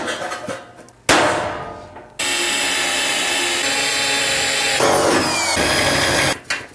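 A power drill whirs in bursts, a short run, a pause, then a long steady grinding whine drilling holes into rusty sheet metal of a BBQ grill before stopping and restarting briefly.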